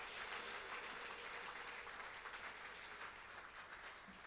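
Church congregation at a Sunday service applauding together, a continuous even clapping that sounds distant and faint, with no voices standing out.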